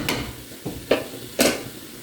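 Noodles cooking in their own juices get stirred in a pan for turkey stroganoff, making three or four soft scraping, clattering strokes over a quiet, faint sizzle.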